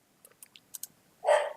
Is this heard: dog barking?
yes